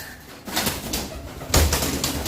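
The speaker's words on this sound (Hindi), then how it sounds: "देखो ये वाला पिजन देखिए कितना सुंदर है" A pigeon coos close by in soft throaty bursts. The cooing rises at intervals over a steady background hum.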